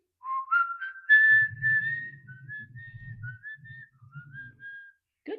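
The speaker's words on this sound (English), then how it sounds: "Can you whistle again?" The ROPET robot gives a clear, close whistle, a rising then wavering tone lasting several seconds over a soft low hum, with no talking.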